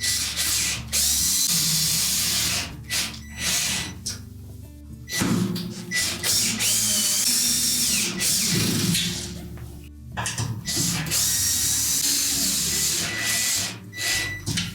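Power drill driving 1.5 to 2 inch screws into a Whirlpool washer during a brake spring repair, with loud continuous whirring and ratcheting bursts that rise and fall, close by.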